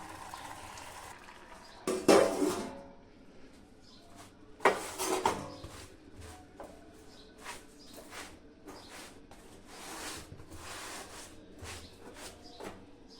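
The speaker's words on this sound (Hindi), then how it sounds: "बर्तन साफ करूँगी" Dishes, pots and pans being washed in a home kitchen with a pressure cooker boiling nearby: two loud metallic clatters stand out, followed by lighter clinks of utensils and running water, close and with no talking.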